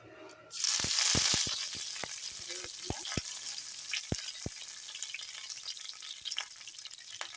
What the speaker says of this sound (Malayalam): ഇത് നല്ല ഫ്രഷ് തന്നെ ഇരിക്കണം കറിവേപ്പില കേട്ടോ